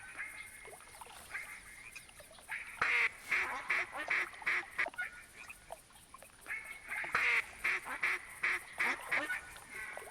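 Ducks quack repeatedly in loud clustered bursts in the hunting game TheHunter, a flock calling over steady outdoor ambience with short pauses between groups.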